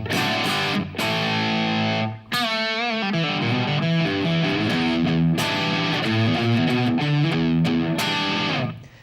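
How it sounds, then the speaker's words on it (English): An electric guitar plays chords and riffs with a lightly driven, slightly gritty amp tone, steady and up front with no voices. "I've got a little bit of drive out of the amplifier."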